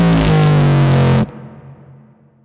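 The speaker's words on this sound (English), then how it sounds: "a lot of high-end and growly distortion in that drop" A cinematic trailer music drop with gritty, growly distortion and bright high end, loud and dense before cutting off abruptly into a fading tail.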